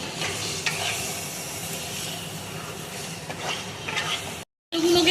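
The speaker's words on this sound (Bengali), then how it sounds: "দিয়ে এবারে মাংসটাকে আমি কষবো।" Large pieces of meat for biryani frying and being stirred in a pan, a steady close sizzle with scraping strokes, briefly cut to silence near the end before resuming.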